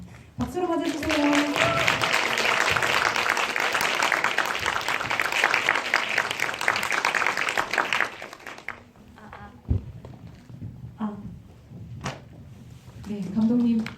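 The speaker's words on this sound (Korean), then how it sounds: "박수로 맞아주세요." An audience at an indie film screening talk in a cinema claps to welcome a director and an actor, a dense burst of applause for about eight seconds that fades into a host speaking.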